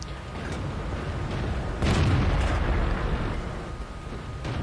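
A single heavy cannon boom from a Type 58 tank in a video game bursts out of a steady, loud engine rumble and rolls off slowly, with no talking.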